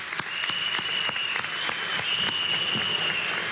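Applause from a crowd of citizens in Lara, Venezuela, at a governor's swearing-in event following elections, steady clapping throughout with a few sharp individual claps standing out.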